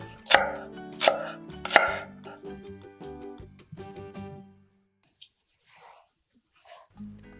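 A knife chops vegetables on a board, three sharp loud strikes followed by lighter, quicker cuts that fade away before a few soft handling noises.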